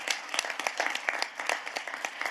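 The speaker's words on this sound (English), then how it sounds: "Can I have a round of applause for each one of you?" Sustained applause from an audience at a parliamentary conference on climate governance, a dense patter of many hands clapping steadily at moderate volume. There is no speech over it.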